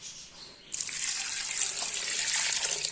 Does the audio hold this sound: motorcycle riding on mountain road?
no